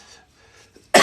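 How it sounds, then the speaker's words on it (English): A single sharp, loud cough bursts out at the very end after a near-silent stretch. "I've had a cough for a while."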